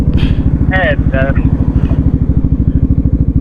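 Motorcycle engine thrums steadily with a fast, even pulse while being ridden, carrying a husband and wife down from Puncak, loud and close throughout, with brief speech over the top.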